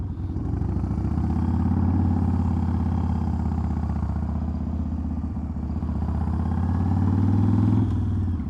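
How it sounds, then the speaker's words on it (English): A motorcycle engine rumbles steadily at close range, with a low, even drone that swells slightly as it rides along the road. "riding a motorcycle that I built"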